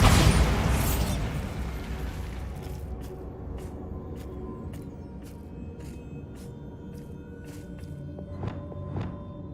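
A Bombarda blast spell in Hogwarts Legacy, a loud booming explosion at the start that rumbles and fades, followed by scattered sharp clicks and thumps from game effects, no talk.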